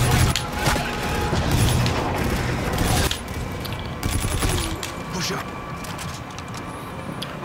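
Rapid automatic fire from the FHR-40 in Call of Duty Infinite Warfare, dense bursts with booming reports across the first half, easing after a pause, with someone talking over the gameplay.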